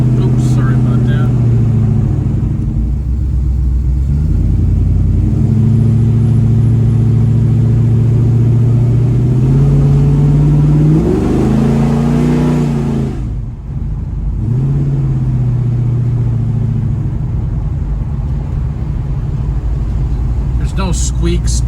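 A 1970 Chevrolet Chevelle cruises down the road, its engine droning loud and close inside the cabin, with revs rising and falling through the drive and a brief dip before it settles back into a steady rumble.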